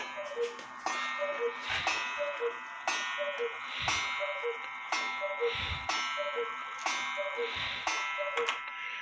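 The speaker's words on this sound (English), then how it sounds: "Cuckoo's on the half hour, and on the hour at 5 minutes till, the clock goes into warning." A cuckoo clock with a Regula 70-1 movement calls on the hour, repeating paired two-note cuckoos at a steady pace over crisp mechanical clicks and ticks, heard up close.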